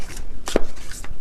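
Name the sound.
shuffling a deck of oracle cards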